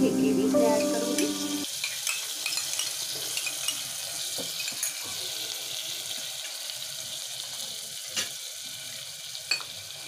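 Spice masala paste fries in a little oil in a pan for a chickpea and potato curry, a soft steady sizzle with occasional stirring clicks, close and fairly quiet.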